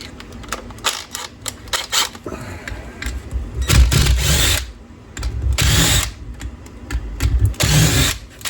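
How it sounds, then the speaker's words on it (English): Quick ratcheting clicks and rasping bursts from a 1/4 inch drive 12-point wrench removing bolts during a rear wheel and brake restoration on a Harley V-Rod, close and fairly loud, coming in uneven spurts. "I already loosened these off with my wrench, 12-point wrench"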